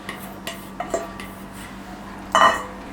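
A utensil scrapes and clinks against a bowl while corn flour is mixed into flour, with a few light taps and one sharper clatter near the end, close and fairly quiet.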